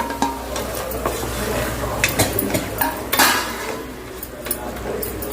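Spoon scraping and clinking against a biryani pot as tomatoes with rock salt are stirred in, with a soft sizzle of frying underneath and irregular metallic knocks close by.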